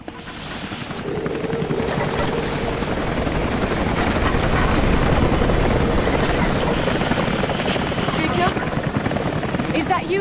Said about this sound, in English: No, that was a helicopter.